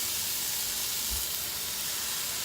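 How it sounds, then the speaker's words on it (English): Chicken searing in hot oil in a pan for Cajun chicken Alfredo, giving a steady, close hiss of sizzling with no break and no talk. "You hear that sizzle?"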